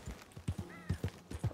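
Horse hooves clip-clop in a steady trotting rhythm in the video game Red Dead Redemption 2, close and fairly quiet, with a brief faint whinny partway through and no talk.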